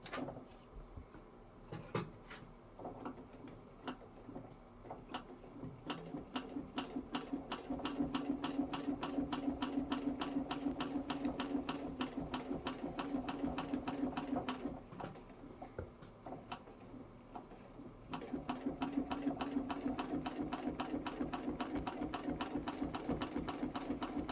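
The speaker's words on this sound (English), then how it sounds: "So I'll sew the first line." A sewing machine stitches a quilting line across a table runner, a steady close-up whir with rhythmic needle ticks that picks up speed partway through and keeps going for over twenty seconds, with no talking.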